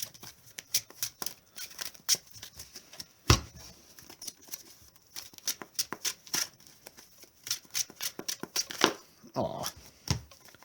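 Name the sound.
shuffling a deck of Magic: The Gathering cards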